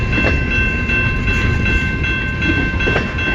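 A CN freight train rolls past at close range, its wagons producing a loud, continuous rumble with rhythmic clicks from the wheels on the rail joints, and nobody speaks.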